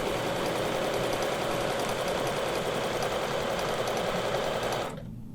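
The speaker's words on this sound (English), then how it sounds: "Needle down, and we're going to stitch all the way down that line." A domestic sewing machine runs steadily, stitching along a ruler line on a quilt block during ruler work, with a constant whirring hum that holds for about five seconds before stopping abruptly, heard up close with no talking.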